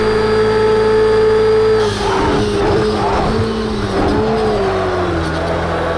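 Race cars on track in Project Cars 2, a steady high engine drone holding pitch, then shifting and wavering as multiple cars rev, brake and accelerate close together, loud throughout.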